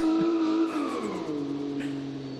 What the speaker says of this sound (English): I'm gonna drift the entire track